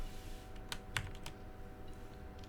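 A few soft keystrokes on a computer keyboard, separate taps spaced irregularly over a faint steady hum.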